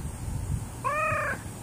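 A single clear meow from a cat with one green eye and one blue eye, rising and falling over about half a second, preceded by faint low room noise.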